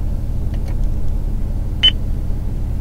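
A single short electronic beep from a car's steering wheel voice command button, sounding once over a low idling rumble.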